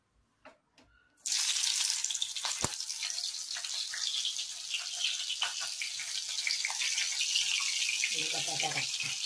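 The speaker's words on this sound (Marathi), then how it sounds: "आता तुपामध्ये मी मिरची टाकते।" Green chillies drop into hot ghee and burst into a loud, steady sizzle that runs close up for several seconds after a brief quiet start, with some faint clatter near the end.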